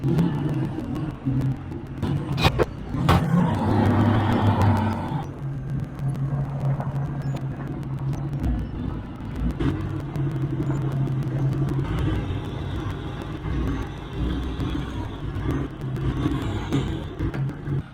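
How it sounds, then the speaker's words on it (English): A pickup truck starts up and rumbles steadily as it drives a short distance across a street, engine tone rising and settling, close and fairly loud with no talking. "We're gonna fire up the truck, literally drive across the street."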